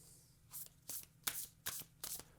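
Tarot cards riffled and shuffled in quick bursts, five or six short papery flutters close to the listener, quiet and without any talk.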